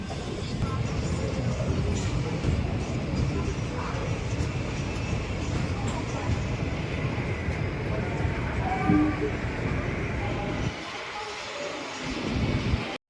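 The Venkatadri Express pulls into Tirupati station with a continuous heavy rumble and clatter, loud and near, dropping off briefly before swelling again near the end.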